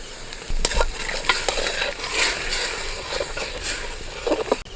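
Water coming to a boil in a pot, with a bubbling hiss broken by clinks and scrapes of a utensil against the pot, close and fairly loud, with no voices.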